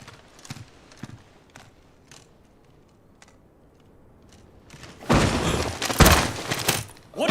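A horse's hooves clip-clopping in a video game, a string of separate hoof thuds at a walking pace, followed by a sudden loud burst of crashing, clattering noise near the end.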